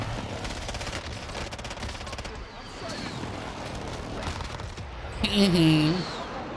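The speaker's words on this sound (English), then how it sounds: "the FINN LmG just feels like a crazy beamer" The FINN LMG in Call of Duty Warzone on Rebirth Island fires long, rapid, close bursts, a dense rattling stream that runs for seconds, with other game sounds rising near the end.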